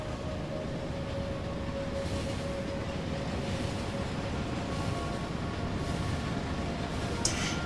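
Trains roll through a Factorio factory, a steady low rumbling drone with faint mechanical hum running throughout, even and unbroken.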